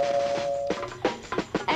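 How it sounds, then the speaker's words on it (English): A doorbell sounds: a brief sustained chime tone followed by several quick, sharp rings in an uneven rhythm, close and moderately loud with no talk. "Answer the doorbell."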